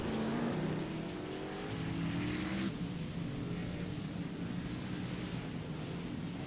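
Rally trucks race around the Sonoma RallyX circuit in the iRacing sim, their engines droning and shifting pitch in a continuous close roar with no voices over it.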